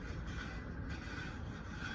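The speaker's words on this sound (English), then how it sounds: "I just thought I'd show you guys this CHUG-CHUG sound" A TYCO Ralston Purina 40ft Hi-Cube CHUG-CHUG sound boxcar pulled by a 1985 Chattanooga TYCO toy train set gives off a steady rolling rumble with a faint rhythmic chugging, close and continuous, with no talk.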